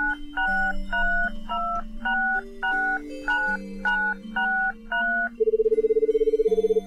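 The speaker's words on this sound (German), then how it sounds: "Er steht auf und benutzt das Telefon." A phone is dialed in a video game: a quick run of about a dozen clear, loud two-tone keypad beeps, then a steady pulsing tone as the line connects, with no voices.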